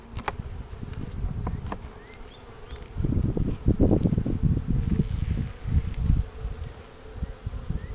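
Honeybees buzz around an opened hive holding swarm cells, a close, wavering hum that swells and fades, mixed with soft rustling and handling bumps near the microphone.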